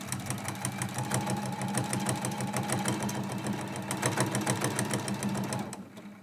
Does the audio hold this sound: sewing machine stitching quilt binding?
yes